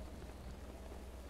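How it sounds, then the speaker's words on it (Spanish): Rain in the video game Zelda: Breath of the Wild, a steady, faint patter and hiss that continues evenly throughout with no voices. "qué pena que esté lloviendo"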